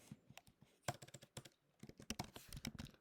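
Typing on a computer keyboard while editing code, a close, quick run of crisp key clicks in uneven bursts with no talking.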